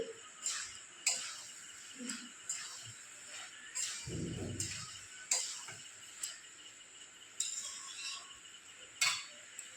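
A spoon stirring dried pea ghugni in a pan, giving faint, regular metallic scrapes and clinks about once a second, with one dull thump partway through.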